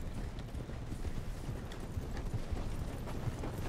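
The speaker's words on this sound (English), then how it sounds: "I forgot that my horse is so, like, fast" Horse hooves clip-clop at a quick, steady gallop in a Red Dead Redemption 2 ride, the rhythmic thuds close and continuous under a dense low rumble of movement.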